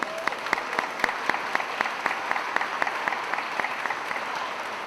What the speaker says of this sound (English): We have another round of applause for all our new employees